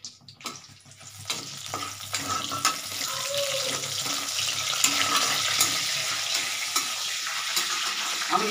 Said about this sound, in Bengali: এই এলাচ আর দারচিনিগুলো ফোড়ন দিচ্ছি।